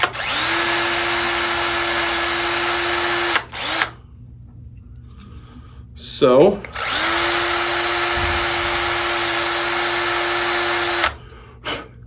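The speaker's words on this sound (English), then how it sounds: "these holes for the screws need to be drilled all the way through" A power drill whines loudly in two long sustained runs drilling screw holes through an Ovation guitar bridge, separated by a quiet gap with a brief spoken word and some handling noise.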